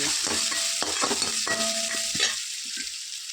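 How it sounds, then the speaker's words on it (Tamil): Crushed black pepper and cumin sautéing in a pan, a bright close sizzle with several quick scraping stirs and clinks, fading toward the end, no speech. "இப்போ நம்ம இடித்து வச்சுருக்கதே இந்த மிளகு சீரகம் எல்லாத்தையும் இது கூட வதக்கிக்கலாம்"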